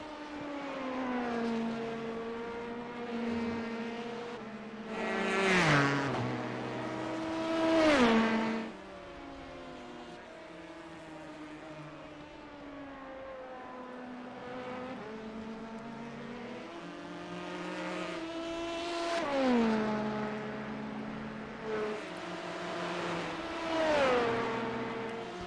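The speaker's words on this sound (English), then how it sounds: "Watching our race leader in the LMP2 car" LMP2 prototype race car engine at Watkins Glen, a loud continuous drone with repeated rising and falling pitch sweeps through upshifts and downshifts, swelling as cars pass close and fading slightly between passes.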